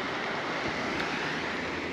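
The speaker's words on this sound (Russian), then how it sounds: "Море, полный штиль, водичка прозрачная" Steady, soft wash of calm Black Sea water along the shore at Lazarevskoye, Sochi, in dead calm, a continuous gentle hiss with no distinct breaking crashes, quiet and even throughout.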